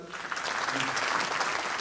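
Listeners at a Hindu religious discourse on the Bhagwat Katha clap in a dense, steady burst of applause, loud and close, with a voice faintly under it.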